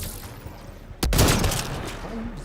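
A short burst of gunfire in the shooter game Mass Effect: Andromeda crashes in suddenly after a quiet stretch, then rings on as a dense, rolling rattle with faint background noise.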